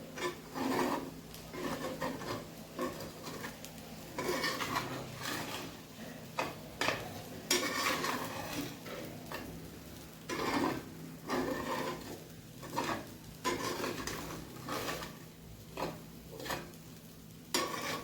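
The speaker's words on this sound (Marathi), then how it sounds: "चांगला हलवून घ्यायचं त्याला. जेणेकरून कूट आणि मीठ दोन्ही पण मिक्स झालं पाहिजे." Sabudana with peanut powder and salt being stirred in a pan, repeated rough scraping and rubbing strokes of a spoon in an uneven rhythm over a faint sizzle, close-up and continuous.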